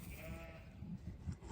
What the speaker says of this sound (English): We could show the sheep here.